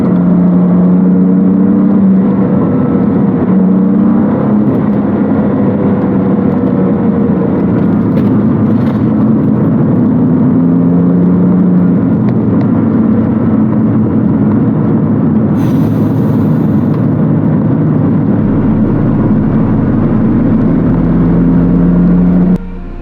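A BMW F80 M3 Competition driving laps at Sydney Motorsport Park, its engine droning loud and steady throughout with rising and falling pitch as it accelerates and shifts, plus constant road and wind roar, no talk.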